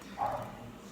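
A single quick dog bark, faint and somewhat distant, rises briefly over a low steady background hum indoors.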